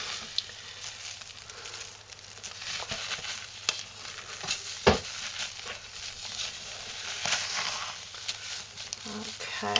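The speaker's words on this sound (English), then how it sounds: "now we're going to clean it with the spatula" Homemade lye soap batter being scraped with a spatula in a bowl, a steady wet scraping and stirring texture with occasional sharper knocks, close up, under intermittent talking.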